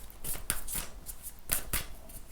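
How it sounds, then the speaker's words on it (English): Oracle cards shuffled by hand in a quick series of crisp riffling bursts, close and fairly quiet, with no talking. "I'm just going to shuffle these oracle cards"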